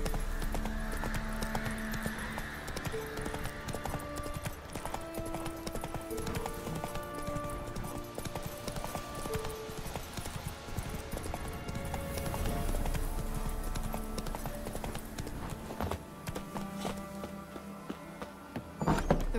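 Roach the horse in The Witcher 3 walking, hooves clip-clopping in a steady rhythm under game music, with an occasional faint whinny.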